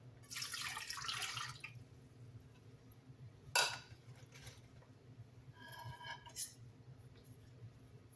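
Water is poured and measured into a kitchen vessel, two cups for boxed butter-and-herb pasta, with a splashing pour at the start, a sharp clink, then later drips and light trickles, all close by and without talk.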